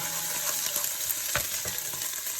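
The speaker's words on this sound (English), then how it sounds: "We add our garlic. There we go. Give them a bit of a stir." Garlic and ginger fry in a pan, giving an even sizzle with a couple of scraping stirs near the middle, and nobody speaks.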